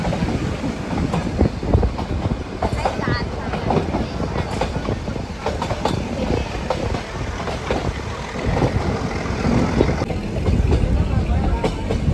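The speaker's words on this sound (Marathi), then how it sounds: "सो आम्ही कुन्नूर टू उटी चाललो आहे टॉय ट्रेननी" The Coonoor to Ooty toy train runs along its rails with a steady, loud rumble and rhythmic clattering of wheels, and voices are faintly audible beneath the noise.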